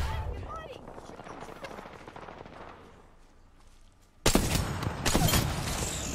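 Gunfire in Apex Legends: a sudden loud burst of shots breaks in after a quieter stretch of distant firing and speech, then keeps going in sharp close bangs.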